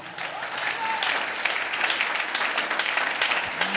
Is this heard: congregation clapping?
yes